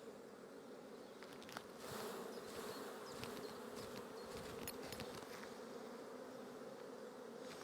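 Honeybees buzz in a dense, continuous hum during an early spring hive inspection, swelling slightly louder after a moment, with many insects close around.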